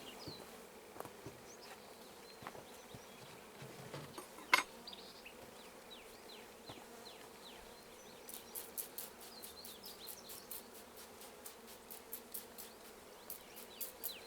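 A steady, quiet buzz of many bees hums through the whole stretch as colonies are installed into frames, with a few clicks and knocks of handling and a sharp bump partway through.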